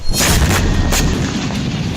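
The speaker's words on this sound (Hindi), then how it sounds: "इजरायल ने ये धमाके ईरानी दूतावास के बेहद पास किए।" Dense, continuous rumbling blasts with sharp cracks on top, loud and close, from Israeli air strike explosions near the Iranian embassy in Syria, going off in rapid succession.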